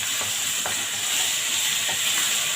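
Garlic sizzling steadily in hot oil in a pan on a home stove, with a few soft scrapes of stirring breaking through the continuous frying hiss.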